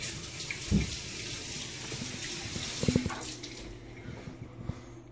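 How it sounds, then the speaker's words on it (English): Tap water runs into a sink as hands are washed during a barbecue prep session, a steady broadband splash with a few brief clunks and knocks, fairly close and moderately loud, easing off toward the end. "Just wash my hands quick"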